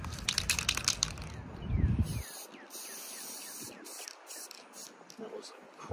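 A spray paint can puts bursts of orange paint onto a print, heard as hissing sprays with rattly handling noise early on and softer hiss later, fairly close and moderate in level.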